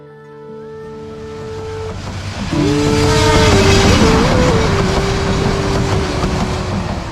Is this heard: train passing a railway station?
yes